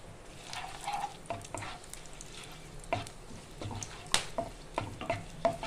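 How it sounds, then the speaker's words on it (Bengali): Bay leaves, a dried chili, cardamom, cloves and cinnamon frying in oil, a soft close sizzle broken by irregular clicks and scrapes of stirring in the pan. "এবার লঙ্কাটা ভাজা হয়ে গেছে।"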